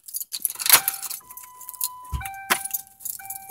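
Keys jangle close by as a 2008 black Ford Crown Victoria Police Interceptor P71 starts up, a short metallic rattle followed by engine and tonal electronic chimes, outdoors in snow.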